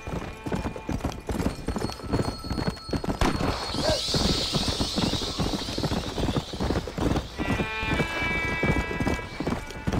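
Rapid rhythmic hoofbeats of a galloping horse in Red Dead Redemption: Undead Nightmare pound steadily throughout, with an occasional whinny and faint background sounds.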